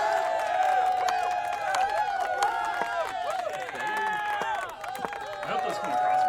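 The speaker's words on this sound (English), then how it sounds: "I'm gonna put the cheer noise on" A canned cheering-crowd sound effect played through speakers during an online chess game: sustained, wavering shouts and whoops from many voices, with a few claps, running for several seconds at an even level.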